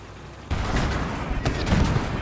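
An anti-tank shot strikes and destroys a tank in the WWII game Gates of Hell: Ostfront, a sudden loud blast followed by rumbling, crackling debris and further impacts in a dense, noisy battle mix.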